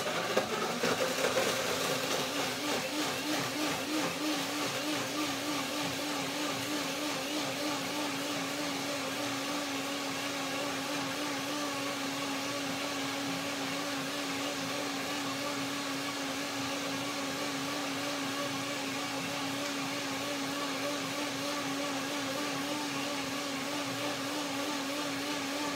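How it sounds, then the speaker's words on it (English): A blender whirs steadily while blending cherimoya pudding, a continuous motor drone with a strong low hum that holds unchanged for the whole stretch, close and loud, with no voices. "So this is my cherimoya pudding when I blend it."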